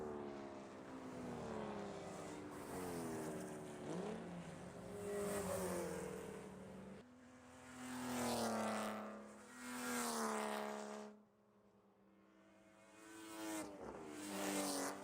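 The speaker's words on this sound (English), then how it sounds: "As you hear the cars make their way through with some of the great microphones that we have on the course around Riverside." Porsche Cup race cars sweeping past the trackside microphone at Buttonwillow, engines rising and falling in pitch as several cars pass in turn, moderately distant with swelling and fading pass-bys and no talk.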